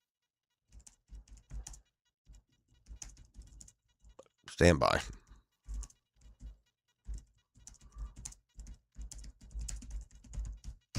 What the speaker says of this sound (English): Isn't that exciting when y'all hear the typing?